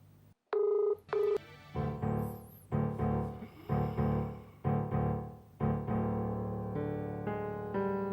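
A telephone being dialed indoors, with a short series of steady electronic tones pressed one after another in an uneven rhythm, close and fairly loud, with no talking.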